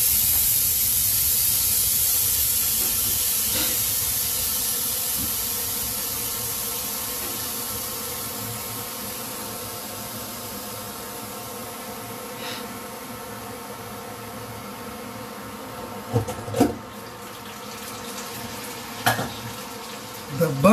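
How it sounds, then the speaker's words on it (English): Pineapple chunks sizzle and char in melted butter in a pan, a steady close frying hiss that eases slightly over time, with a few sharp clinks and taps near the end. "The butter has melted, the pineapple has charred nicely."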